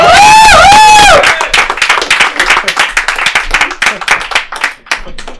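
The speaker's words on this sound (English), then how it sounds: "Everyone, give a round of applause for Miss Trashy Tina." Audience at a live comedy show at Shakers on Clark breaks into dense, loud applause with a few cheers, starting under a shouted or whooping voice and then thinning into scattered individual claps.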